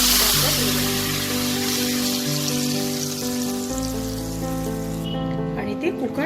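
Boiled mixed dal is poured into hot cumin seed tempering, setting off a loud crackling sizzle that slowly settles. A steady tonal hum runs underneath, and the sizzle dies away near the end.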